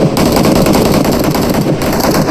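Continuous automatic gunfire from a PUBG custom match, loud and dense with rapid overlapping shots that barely pause across the whole stretch.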